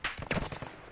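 Gunfire in the video game Call of Duty DMZ: a quick cluster of several close, sharp shots bursting over about a second, with no talking.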